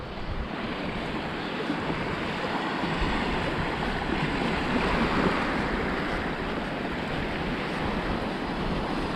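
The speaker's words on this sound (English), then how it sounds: "You're going to hear these waves crashing a lot more." Waves crash and roll continuously in a steady, loud wash of surf on a barrier island beach, with wind noise buffeting the microphone and no voices.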